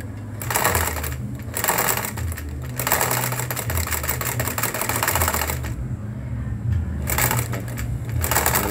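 A Vigorelli ZZ/A sewing machine stitches zigzag in loud, close bursts of rapid rattling clatter, separated by short pauses and a steady lower motor hum.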